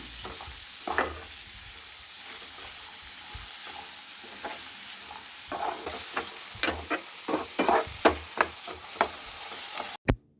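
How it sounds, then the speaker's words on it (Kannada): Onions fry in a pan for village-style tamarind rice, giving a steady close sizzle broken by repeated scraping stirs and clacks, with no talking. "ಇಲ್ಲಿ ಈರುಳ್ಳಿ ಚೆನ್ನಾಗಿ ಫ್ರೈ ಆಗಬೇಕು."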